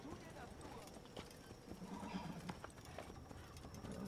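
Horse hooves clip-clop steadily at close range in the Assassin's Creed video game, set in the city of Acre, with a brief whinny and background game ambience throughout.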